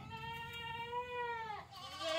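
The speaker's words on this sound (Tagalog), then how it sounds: "ito yung mga kambing ni Sir Isagani, ano?" Goats on a farm give a loud, close bleat, a long wavering cry that breaks and rises again, heard alone with no talk.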